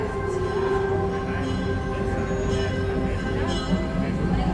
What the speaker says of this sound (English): You can hear the train going by